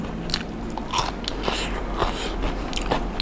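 Crunchy bites into lotus stem in a spicy salmon salad with fermented fish sauce dressing, a few close, crisp crunches and chewing sounds over a faint background hum.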